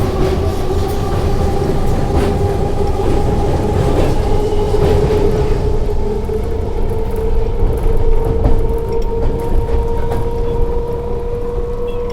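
The Mecheda–Digha local train pulls into a station, its loud, close rumble carrying a sustained tonal whine that slowly drifts as it arrives, with no voices over it.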